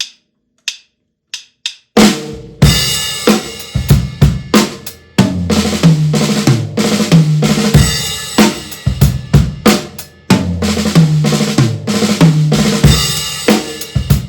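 Drum kit playing a one-bar groove followed by a one-bar fill in 32nd notes built on five-stroke rolls, preceded by a few sparse count-in clicks, then loud rapid hits and rolls, close and alone.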